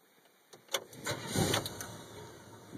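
A 1971 Chevy custom C-10 stepside pickup engine starting in winter: starter cranks in quick rhythmic pulses, then the motor catches and rumbles louder, heard close up.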